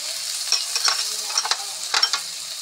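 Spices stirred and frying in a pan as tomato goes in, with soft sizzling and a few brief scraping stirs, close and steady with no talk.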